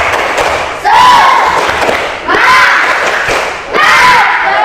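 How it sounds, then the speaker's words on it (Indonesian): A group in a classroom performs a loud spirit clapping routine, with rhythmic claps and shouted chant bursts repeating in three surging waves, close and energetic. "Tepuk semangat."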